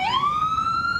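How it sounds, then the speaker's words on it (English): A single loud emergency vehicle siren wail rises quickly in pitch and holds its high tone, close by on the New Haven Green, with no voices. "Sirens blaring all day, one after the next"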